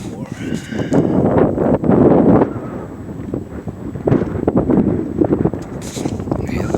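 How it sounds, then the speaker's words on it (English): Wind gusting outdoors in Vereen Gardens, a steady broadband rush rising and falling in waves that continues throughout the clip, loud and close to the microphone. "And the wind's starting to pick up."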